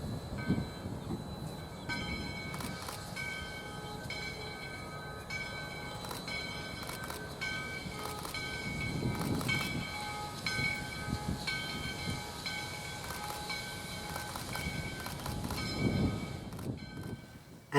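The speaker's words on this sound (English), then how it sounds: "With 2 toots of the whistle, 148 begins easing out of the shop tracks to head to the main line." Steam locomotive No. 148 eases slowly out of shop tracks at a sugar company, with rhythmic chuffing and hissing, metallic squeals and clanks, steady and fairly close, without talk.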